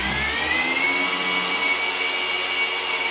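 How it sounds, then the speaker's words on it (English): Parkside 40V cordless multi tool motor running continuously with a loud, even, vacuum-like whirring hum that stays steady with no pauses. "I can say the motor is very quiet."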